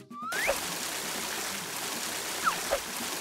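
Water runs steadily in a steady stream, used to wash a toy pony's skin in a paper stop-motion scene, with a few faint squeaky cartoon sound effects over the flow.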